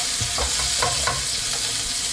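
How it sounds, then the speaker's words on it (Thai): Sliced pork stir-fried in a hot pan with garlic for Thai pad see ew, a steady loud sizzle with scraping stirs of the spatula throughout, no voices. "ต่อไปก็ตามด้วยหมูชิ้นที่เราหั่นไว้นะครับ ผัดจนหมูสุกครับ"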